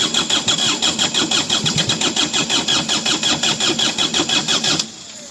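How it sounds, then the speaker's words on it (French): A car engine cranks repeatedly with a steady rhythmic churning from the starter for about five seconds, close and loud, without catching, then cuts off abruptly. "Vous voyez, j'ai la clé là, je vais la démarrer."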